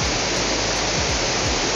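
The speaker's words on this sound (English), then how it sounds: "this is the main event, the main waterfall" Main waterfall on Zlatibor Mountain cascading down in several drops, a loud continuous roar of rushing water filling the whole clip, close by, with no voices.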